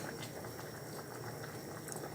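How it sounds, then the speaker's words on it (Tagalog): Pork ribs with corn and onion simmering in a pot make a steady, soft bubbling boil, a constant quiet gurgle with no break. "Naglaga na naman tayo ng ribs."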